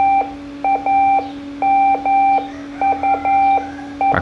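An ARDF fox hunting beacon sends Morse code as a string of sharp, steady electronic beeps in short and long groups over a constant low hum, with brief gaps between characters.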